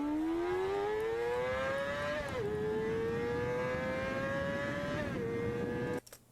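A high-revving four-cylinder car engine whines steadily upward in pitch, drops briefly at each gear shift, then climbs again before cutting off abruptly near the end. No voices.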